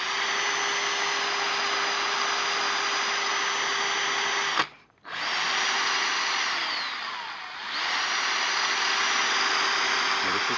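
18 volt cordless 1/2-inch variable speed hammer drill spinning with a steady high whine, briefly cutting out near the middle and dipping once more before resuming at full speed, close and loud with no talk.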